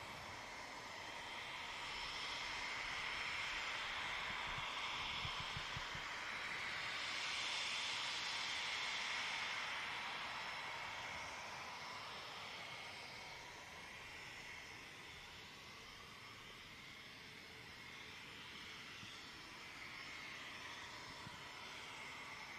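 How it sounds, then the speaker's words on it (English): A Pegasus airliner arrives on runway 23 right at Manchester Airport, a steady, fairly distant jet roar that swells to a peak midway, then slowly fades into a broad, sustained rumble and hiss. "Pegasus just arriving in on 23 right."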